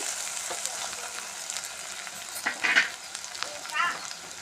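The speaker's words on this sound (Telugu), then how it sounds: "నీట్గా కడుక్కున్న చికెన్ వేస్తున్నాను" Washed chicken pieces frying in a pan for chilli garlic chicken curry, a steady broad sizzle with sharper crackling bursts and a few stirring scrapes, close and fairly loud with no talk.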